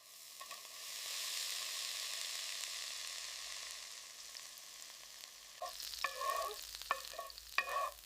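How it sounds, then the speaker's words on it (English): Sausage fried rice ingredients sautéing with onions in a thin layer of oil: a quiet, steady sizzle, then several sharp clattering scrapes of stirring in the pan during the last seconds. "A thin layer of oil is enough. Sauté until fragrant."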